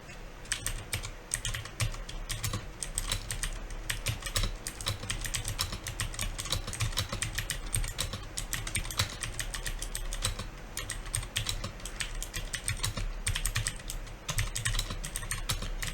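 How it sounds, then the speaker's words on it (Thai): Fast typing on a computer keyboard during a Monkey Type typing test, a steady, dense stream of close keystroke clicks with no talking. "เวลาพิมพ์เนี่ยผมพยายามที่จะพิมพ์ไม่ให้มัน ผิดบ่อยนะครับ"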